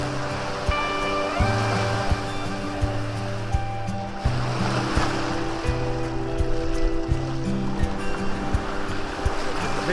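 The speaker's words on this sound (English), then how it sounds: "Hikkaduwa Beach." Ocean waves rolling in at Hikkaduwa Beach, Sri Lanka, a continuous broad wash of surf with repeated low rumbling surges, close by, over a steady hum with no voices.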